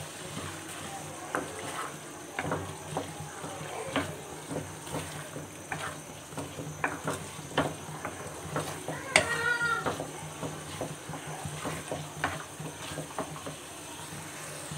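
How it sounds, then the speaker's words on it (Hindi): Chickpeas and fried onions frying and being stirred in a pan for a chickpea curry, a steady soft sizzle broken by repeated scraping stirs and clattering spoon knocks at an irregular pace. "अब हम इसमें तले हुए प्याज ऐड कर देंगे और अच्छी तरह से मिक्स कर लेंगे"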